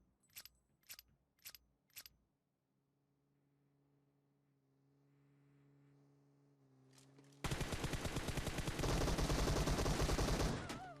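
Gunfire from the mobile game PUBG Mobile: four sharp separate shots, then a quiet stretch with low hum, then a loud dense burst of rapid automatic fire lasting several seconds.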